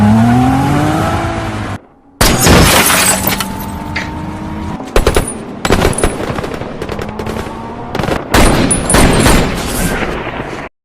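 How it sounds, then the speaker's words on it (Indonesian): Heavy gunfire in a film action scene with a sniper shooting, loud bursts and sharp shots cracking repeatedly over a dense rumbling score, with a brief gap partway through. "si pemilik lapangan tembak pun ikut membantu Jack Reacher dengan menjadi penembak jitu"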